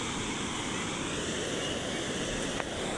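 Steady, even water rush of a stream beside Barrio Blaan, outdoors at night, continuous and fairly close with no breaks and no voices.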